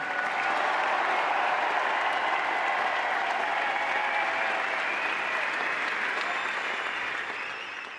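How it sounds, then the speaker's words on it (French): A steady, sustained wave of audience applause and cheering in an ovation for tennis player Jo-Wilfried Tsonga, dense and even throughout before easing slightly at the very end, with no speech on top. "une ovation pour Joe Wilfried Tsonga"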